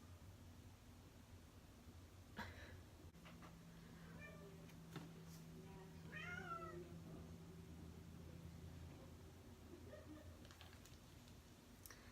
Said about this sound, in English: Now I have a kitty meowing in here.